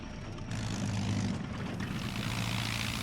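A twin-engine propeller airliner, a Boeing 247 or Douglas DC-3, struggles at takeoff on one engine, giving a steady, droning propeller roar that swells after half a second and holds, loud with no talk.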